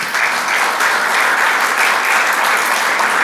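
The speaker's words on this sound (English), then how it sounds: "so that we can give you a round of applause and acknowledgement" Applause from a seated audience at a city chamber breakfast, a steady, full clapping of many hands that fills the room for a few seconds.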